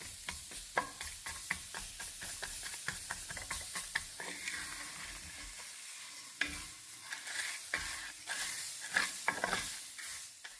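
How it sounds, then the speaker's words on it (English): Chopped onion sautés in the bottom of a soup pot, giving a soft steady sizzle under frequent scraping stirs of a spoon, close and fairly quiet. "add my onion and just saute that"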